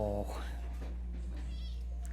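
A cat at an animal shelter kennel gives one short meow at the start, followed by a faint, close purr and rustling, with a person talking softly over it.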